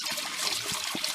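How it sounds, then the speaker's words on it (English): Rinse water runs and bubbles down into the cylinder of a Carpigiani 141 ice cream machine, a close, continuous gurgling trickle with small plops. "It's bubbling, the water going down to the cylinder"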